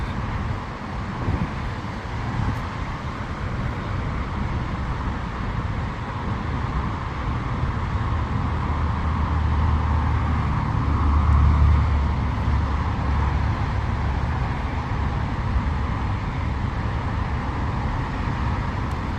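A car crawls slowly through parking practice, producing a low steady engine rumble and road noise that swells slightly midway, with no talk.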